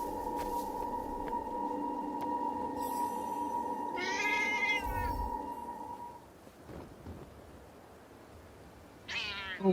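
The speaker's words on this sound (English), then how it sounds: "Hey, I think I heard a cat." A cat meows in the video game Forspoken, a short bright call followed by a second meow near the end, both heard over a steady electronic game hum and ambient tones, with no talking.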